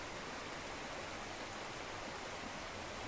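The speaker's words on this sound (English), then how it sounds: "a beautiful creek" An outdoor creek flowing in autumn, a steady, dense rush of running water that holds constant throughout, with no voices over it.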